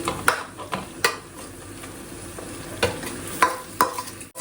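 Country chicken pieces fry in a pot with a low, steady sizzle. Sharp metal clinks from a spoon stirring against the pot sound at irregular intervals, close by, without talk.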